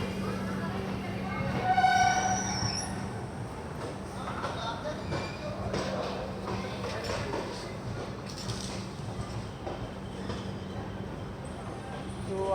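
Steady rumble and rattle inside the Kashi Vishwanath Express as it runs from Bareilly toward Banaras, a continuous drone with a short swell early on and voices murmuring under the track noise.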